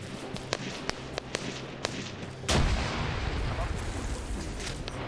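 A grenade explodes in a military video game, a sudden heavy blast that rolls into a sustained rumble, preceded by scattered sharp gunshots cracking at irregular intervals, moderately loud.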